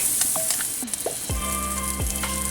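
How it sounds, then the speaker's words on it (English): Lamb stir fried with ground Sichuan pepper in a wok, a loud close sizzle with scraping stir strokes and a few metallic clinks, no talk. "Stir fry a little bit. Then add in ground Sichuan pepper. Stir fry a little bit."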